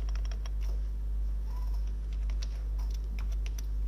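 Rapid typing of JavaScript code on a computer keyboard, close and steady key clatter in quick irregular bursts over a constant low hum, with no talking.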